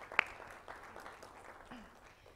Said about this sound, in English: I just want to give them a round of applause for all of their help.